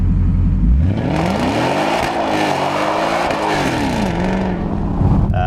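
A supercharged 670 hp 2017 Ford Mustang accelerates hard, its engine note rising steadily through the gears with brief dips at each shift, loud and close throughout with no talk.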